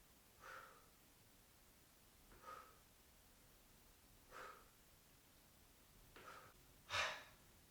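Heavy breathing after an abdominal workout comes as five separate close exhales or gasps spaced a couple of seconds apart, and the last one is the loudest.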